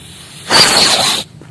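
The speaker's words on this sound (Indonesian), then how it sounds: "Oke, kita coba yang petasan kura-kura." Turtle-type firecracker hissing as it spins, a loud burst of spraying hiss lasting under a second, starting abruptly and cutting off sharply.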